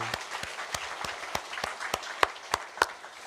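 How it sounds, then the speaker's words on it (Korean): Members of a church congregation clap in unison, a steady beat of sharp, evenly spaced claps at about three per second. It is moderately quiet, and a voice talks or calls out briefly near the end. "감사와 또 영광의 박수로 함께 주님을 찬양하시겠습니다."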